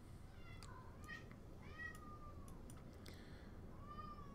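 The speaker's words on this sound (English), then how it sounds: "There's a sad cat in the background." A cat meows several times in the background, drawn-out and plaintive, faint over a low steady hum.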